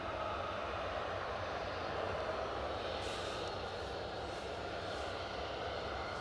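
Aircraft at Newcastle Airport on a snowy, windy day, a steady distant engine roar with a broad rushing drone throughout, no talking.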